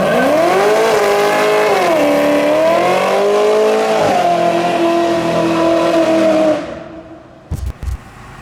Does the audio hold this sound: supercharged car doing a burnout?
yes